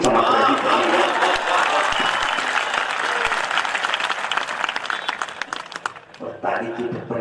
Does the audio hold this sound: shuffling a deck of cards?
no